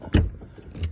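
Two short mechanical clunks about a second apart, like a van door lock popping open with a key, close by with no talking.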